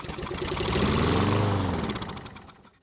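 A John Deere mower engine, with a worn paper air filter element, starts and runs for a couple of seconds, a loud, rising mechanical rumble that steadies, then fades out and stops.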